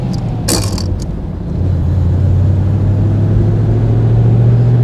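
A 1935 Horch 850 Sport classic car drives with a steady low engine drone and road rumble close by, rising slightly after a brief quieter moment and holding even to the end.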